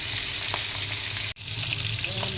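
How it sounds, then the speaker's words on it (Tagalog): Loud, steady crackling sizzle of dried fish frying in hot oil, continuous throughout with a brief dropout midway. "pag nagpiprito ako ng mga ganito daing"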